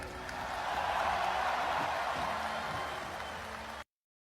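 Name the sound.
audience applause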